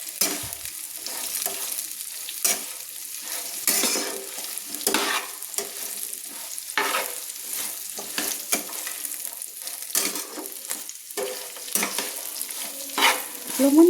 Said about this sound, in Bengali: লবণ দিয়ে আমি আবারও ভালো করে আমি সজনে ডাঁটা আলু আমি নেড়ে নিচ্ছি।